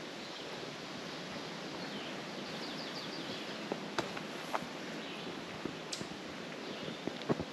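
Birds chirp faintly and sparsely in a cold mountain forest with moss-covered rocks in Forbes State Forest, the short calls sitting far off beneath a steady hiss of background noise.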